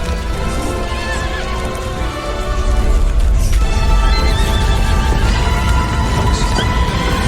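Horses neigh and whinny repeatedly over steady clip-clopping hooves, loud and close, with the commotion growing fuller partway through.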